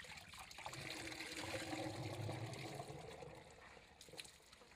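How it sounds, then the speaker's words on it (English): Biogas slurry pouring from a mixing tank into the main digester chamber, a faint, steady trickle and gush of liquid running continuously. "The liquid is then released into the main chamber."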